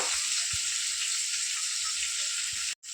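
Cumin seeds sizzle in hot oil with a steady, close hiss, and a few soft low bumps stand out before the sound cuts out briefly near the end.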